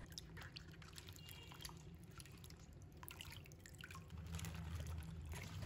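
Leafy green vegetables are washed by hand in water, with soft drips, splashes and trickles that run quietly and unevenly throughout.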